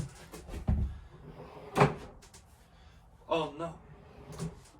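Wooden drawers in a tiny home being opened and closed, a few knocking thuds and sliding bumps, with a person speaking briefly between them.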